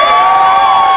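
A large audience at a Hyderabad poetry gathering roars and cheers loudly, a dense burst of shouting voices and whoops lasting about a second.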